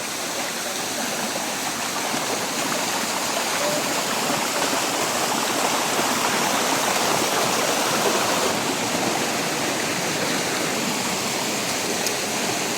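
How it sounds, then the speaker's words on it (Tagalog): A strong waterfall pours into a forest stream in the mountains, a loud, dense, unbroken rush of water that holds steady throughout with no other sounds standing out. "may isa pang lagusan doon ng falls. Mas malakas lang itong tubig nito"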